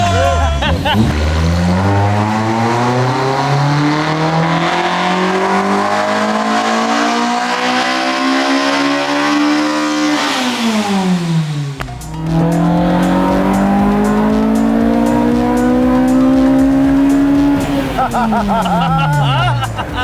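A Honda Civic engine on a dyno revs hard toward 9,000 RPM in two long climbing pulls, a loud, close, screaming howl with a brief break between runs and voices in the background.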